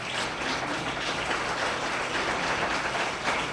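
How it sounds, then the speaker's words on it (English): A conference audience at an anniversary gathering of a solidarity finance organisation claps steadily, a dense continuous patter of many hands with no break and no voices over it. "Big round of applause for Soluti."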